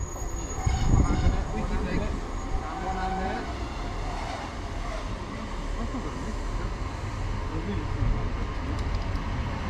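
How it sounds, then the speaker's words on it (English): A blue East Midlands Railway Class 156 diesel unit, 156414, on the Peterborough to Lincoln Central service rumbles into a platform in Lincolnshire, a low steady engine and wheel drone with faint squeal, rising slightly near the end. "arriving in now is 1618 East Midlands Railway service to Lincoln Central from Peterborough"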